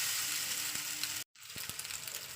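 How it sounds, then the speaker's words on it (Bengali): Pasta added to a pan of frying vegetables such as beans and carrots, giving a steady close sizzle that briefly cuts out, then resumes with a few sharp ticks and clicks. "তো চলুন এর উপরে আমি পাস্তাগুলোকে দিয়ে দিচ্ছি।"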